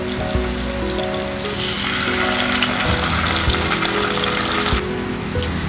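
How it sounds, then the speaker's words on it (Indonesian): Tempe fries in hot cooking oil with a steady, loud sizzle and crackle that stays unbroken throughout, close up, with no talk. "Ketika sudah panas, goreng tempe hingga matang."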